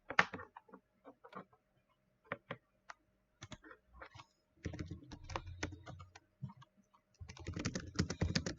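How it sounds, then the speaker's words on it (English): Irregular clicks of typing on a computer keyboard, in short bursts and then a faster run of keystrokes, close and fairly quiet with no voices. "He's typing. He's typing."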